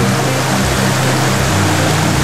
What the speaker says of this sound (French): Vous voyez, c'est un ruisseau